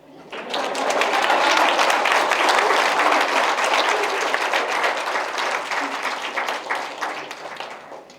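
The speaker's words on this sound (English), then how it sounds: "Please give me a huge round of applause." An audience at the HR Conclave 2023 gives a long, dense round of applause, many hands clapping loudly and steadily for about eight seconds before thinning slightly.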